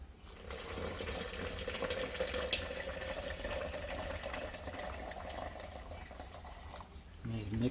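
Hot water running from a kitchen tap into sugar and lemon juice for bee feed syrup, a steady continuous pour with splashing, close by, ending in a brief clatter.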